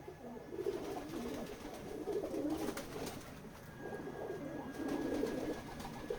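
Pigeons coo steadily at a breeder's loft, several soft overlapping calls running throughout at moderate distance, with no talking.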